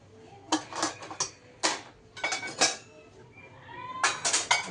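Dishes and utensils being stacked and arranged in a home kitchen: bright clattering, clinking bursts in four short clusters with brief quiet gaps, fairly close and moderately loud, no talking.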